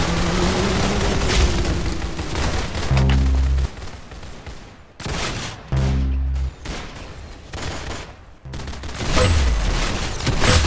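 Gunfire in a shooter video game: dense bursts of rapid shots and booming impacts, loud and continuous, with brief pauses between volleys and no talking.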